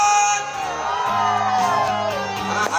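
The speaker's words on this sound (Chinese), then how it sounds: "来尖叫声" Concert crowd at a temple festival variety show in Changhua, Taiwan, shouting and whooping loudly over a continuous band backing for nearly three seconds, with voices yelling across it.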